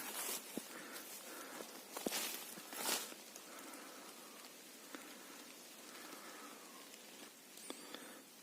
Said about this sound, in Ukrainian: Це так я йду лісом, накрапує дощик.